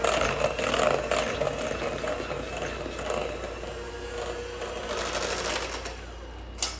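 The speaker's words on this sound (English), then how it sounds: "So we blend this all together really, really good." Electric mixer whirring steadily as it blends Butterfinger pie filling in a bowl, a continuous motor drone with a slight rattle, close and fairly loud throughout.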